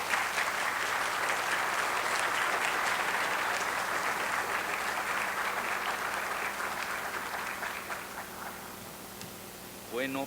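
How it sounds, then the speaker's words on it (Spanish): A lecture audience at a university chair event in Lagos de Moreno claps in a dense, sustained burst that gradually thins and fades toward the end, with a brief voice near the close. "Vamos a darle un aplauso y comenzamos la cátedra Pitol."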